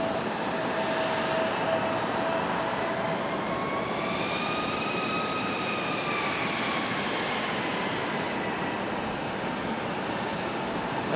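United airliner from Denver at Raleigh Durham airport, a sustained jet engine roar with rising and falling whining tones as it passes, loud and continuous with no talk.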